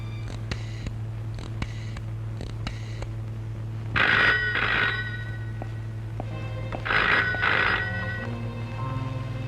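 An old landline telephone rings in a family drama, sounding two clear ring bursts a few seconds apart over a quiet room hum. No one speaks.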